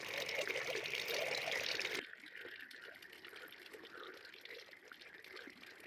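Drinking water gushes from a pipe onto banana trees in a village, a loud, steady rush that suddenly drops after about two seconds to a softer trickle and flow.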